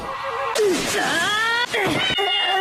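A cartoon cat in the Naruto anime meows and yowls loudly in several drawn-out, wavering cries, close and prominent with thumps between them.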